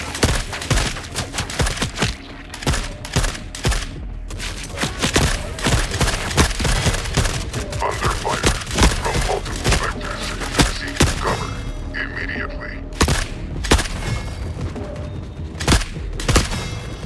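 Dense video-game gunfire fills the whole stretch, with rapid bursts and overlapping shots, scattered thuds and booms, sustained and loud with little pause.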